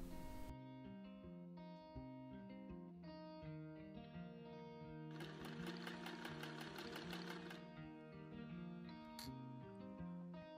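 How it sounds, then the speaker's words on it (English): Sewing machine stitching a linen bodice into a gathered skirt for a dress, a steady mechanical run that continues throughout at a fairly even pace, with a faster, busier stretch in the middle. "Put the bodice in the skirt and distribute the gather evenly and sew them together."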